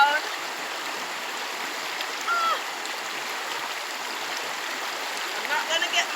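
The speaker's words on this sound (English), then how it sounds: "river water, Bogue water. Oh, so nice and cool." A river in Jamaica flows with a steady broadband rush of water, moderately close and continuous, with small splashes and brief shifts in loudness.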